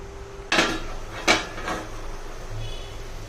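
A lid is set on a pan of frying onions, with two sharp metallic clatters close together and a softer third knock, then a faint ringing fades over quiet kitchen background.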